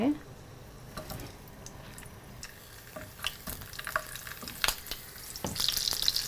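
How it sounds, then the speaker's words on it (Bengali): Fresh pointed gourd fries in hot oil, giving a faint, crackling sizzle with scattered pops and light utensil clicks throughout. "তেল গরম হয়ে গেছে আমরা কোনো কিছুই মাখলাম না ফ্রেশ পটলটাকে আমরা ভেজে একটু ভেজে নেব"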